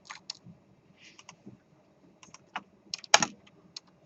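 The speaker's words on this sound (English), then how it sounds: "I have to type in input" Someone types on a computer keyboard with scattered, irregular keystrokes and clicks, close up, sometimes in quick pairs, ending in one sharper, louder key strike, with no speech.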